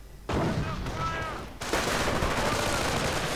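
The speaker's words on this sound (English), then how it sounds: "The sector artillery." Sector artillery fire in a WWII strategy video game, a sudden loud blast followed by rumbling explosions and a second heavy boom rolling on densely to the end.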